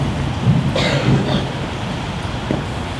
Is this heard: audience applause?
no